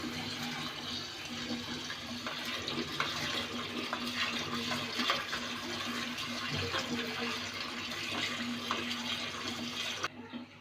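Steady running water from a tap splashes over green chilies being washed for a prawn dish, a constant close wash of sound that cuts off abruptly near the end.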